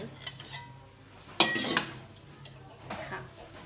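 A fried Thai omelette is scooped from the pan onto a plate, with metal utensil scrapes and a sharp clink against the dish among light kitchen clatter, close and fairly quiet.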